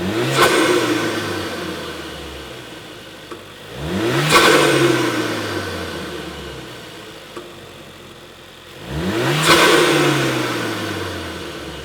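Turbocharged car engine fitted with a Mountune sound suppressor block-off, revving hard in three loud bursts, each rising pitch sweep falling away as the revs drop back between pulls.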